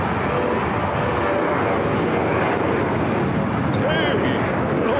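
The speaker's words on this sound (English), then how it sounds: "737-800. Now rolling down that 25 right." A Boeing 737-800 jet rolls for takeoff on runway 25 right at LAX, its engines making a dense, loud, continuous roar that holds steady throughout.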